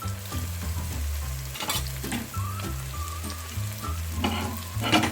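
Garlic and ginger fry with browning onions in a pan, a continuous sizzle broken by repeated scraping strokes of a spoon, over a steady low hum.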